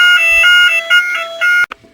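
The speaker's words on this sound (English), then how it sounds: "Fire alarm tests." A fire alarm under test sounds in repeated electronic buzzing pulses, loud and shrill, several beeps in a steady rhythm that cut off abruptly near the end.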